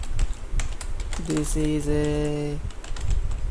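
Keyboard typing of a Java code comment on a computer, soft irregular key clicks heard throughout under a man's speech.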